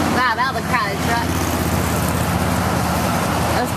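A crowded truck packed with spring breakers rolls past with a broad road rumble that holds steady, as voices and a whistle-like call sound briefly near the start.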